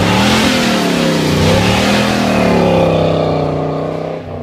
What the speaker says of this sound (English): To finish off with a nice burnout or donut, you're gonna wanna give it a nice amount of gas.